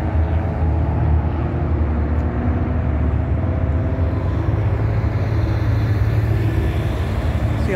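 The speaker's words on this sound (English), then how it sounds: "See a lot of traffic coming into the Las Vegas area here." Steady roar of road traffic on the approach into Las Vegas, a continuous loud wash of passing vehicles with no voices.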